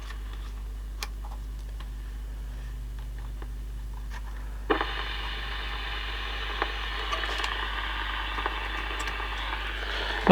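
CB radio hissing with static that abruptly jumps to a louder, brighter buzzing crackle partway through, consistent with electric fence interference, under a steady low hum with scattered ticks and no talking.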